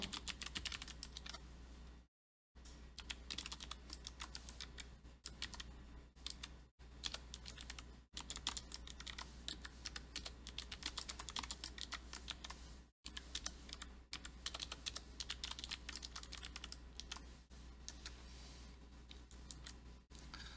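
Rapid, close typing on a computer keyboard as code is written, with dense clattering keystrokes in uneven bursts and a few brief pauses, over a low steady hum.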